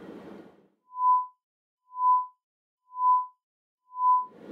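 A pure electronic test tone pulses on and off four times at an even one-second rhythm, each beep swelling smoothly in and out, with brief noise bursts at the start and end.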